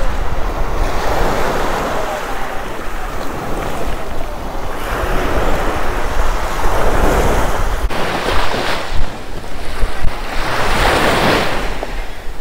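Surf rolls onto a beach at Con Dao island, Vietnam, in long swelling washes that rise and fall across the whole stretch, with steady wind rumble on the microphone and no voices.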